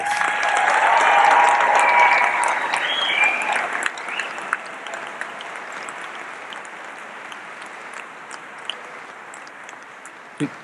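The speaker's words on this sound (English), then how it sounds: "Let's give them all a big round of applause." Hearty applause from a crowd at a high school graduation ceremony, loud at first, then thinning into scattered claps that fade over several seconds.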